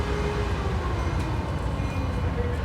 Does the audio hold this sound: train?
yes